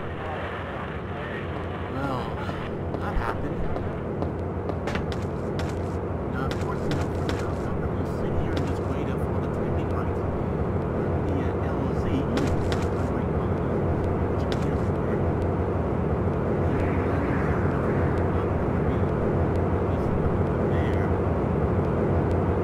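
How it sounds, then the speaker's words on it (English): Helicopter rotor drone from the Trespasser video game, a steady, loud mechanical rumble that holds continuously throughout with little change in level. "We're dispatching a helicopter to your current location."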